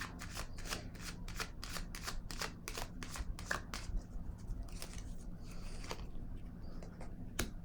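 Tarot cards are shuffled and handled close up, a rapid run of crisp riffling snaps followed by a few slower flicks and slides as cards are drawn, over a low background hum.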